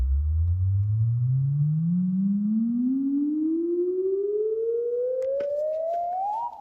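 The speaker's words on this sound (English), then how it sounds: "which pairs well with this other little System 8 part I have going on" A Roland System-8 synth riser glides smoothly upward in pitch over several seconds, one continuous sustained tone climbing steadily, loud and alone, ending at its peak.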